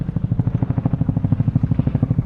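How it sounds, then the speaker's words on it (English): A helicopter's rotor thuds in a steady, rapid rhythm, loud and close overhead, pulsing continuously throughout, heard on a street in Tokyo at sunset. "Helicopter again."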